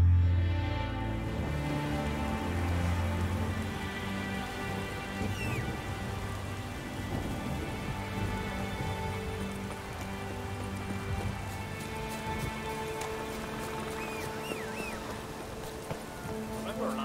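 Rain in the open-world game The Witcher 3: a steady, dense hiss of falling rain across the whole stretch, blended with low droning game ambience and musical tones, no talking heard.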